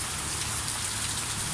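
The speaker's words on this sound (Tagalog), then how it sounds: "Hindi naman gaano kalakasan ng ulan," Light rain falls steadily in Barangay Dalig, Kalinog, on a dark, cold, windy afternoon, making an even, continuous hiss of drops on surfaces with no break or thunder.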